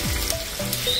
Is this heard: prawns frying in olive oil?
yes